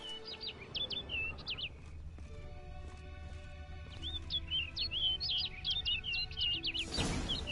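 Birdsong in The Witcher 3 game world: quick bursts of high chirps and trills, a pause, then a denser run of calls over a low ambient hum, with a brief rushing swell at the end.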